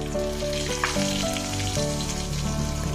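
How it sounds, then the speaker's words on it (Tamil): Cumin seeds frying in hot sesame oil in a kadai, giving a steady, loud, close crackling sizzle that runs unbroken throughout. "எண்ணெய் நல்லா காஞ்சதும் கொஞ்சமாக சீரகம் சேர்த்துக்கோங்க."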